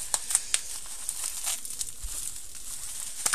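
Plastic packaging being torn open and crumpled from around a Bluetooth speaker, close and crackly, with sharp crinkles and rustles in quick bursts and no talking.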